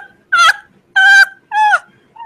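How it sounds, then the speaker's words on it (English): A black dog whimpers in three drawn-out, high, nasal whines, each about a third of a second long with short pauses between, close and fairly loud, then a fourth begins; no sniffing stands out. "Is there a black dog sniffing around here somewhere?"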